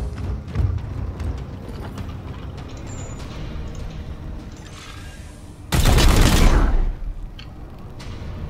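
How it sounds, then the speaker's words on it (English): A ranged attack in the tactical game Warhammer 40k Chaos Gate Daemonhunters fires as a loud burst of gunfire lasting about a second, heard after scattered mechanical clicks and clatter. "My apothecary can move forward and fire once."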